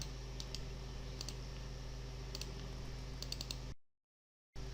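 Computer keyboard during a copy-paste, with a few light key taps in small clusters over a steady electrical hum, close and quiet, ending in a brief dropout to silence.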